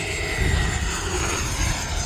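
E-flite Viper 90 RC jet at full throttle, a loud continuous whooshing engine roar held steady and close for a couple of seconds.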